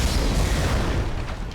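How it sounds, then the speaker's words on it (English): An explosion in Tomb Raider: Legend, a heavy, low rumbling boom that stays loud and fades slightly over a second and a half, close and alone without talk. "Even explosions don't hurt me."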